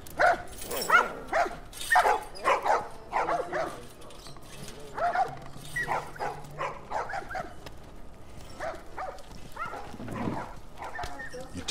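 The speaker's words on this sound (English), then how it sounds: "These dogs are all accounted for." Dogs in The Last of Us Remastered bark and yip in repeated short bursts, fairly close, with a whimper among them. Voices talk in between.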